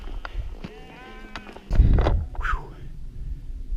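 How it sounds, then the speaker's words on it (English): Sheep on a mountain backpacking trail bleat several times nearby, wavering calls spread over a few seconds, mixed with footsteps and a short burst of handling noise. "Alright, so the sheep have moved on."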